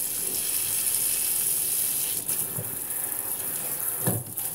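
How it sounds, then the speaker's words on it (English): Fruit being rinsed of soap under a running kitchen sink tap, a steady close hiss of water flow with a few soft splashes and handling bumps near the end. "rinse them off here in the bottom, rinse all the soap off."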